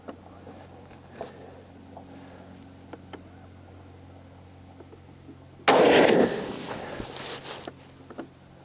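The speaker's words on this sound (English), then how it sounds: "that last shot felt pretty good" A CZ X39 rifle fires a single Golden Tiger 124 grain round outdoors, one sharp loud report after a quiet stretch, followed by a decaying echo.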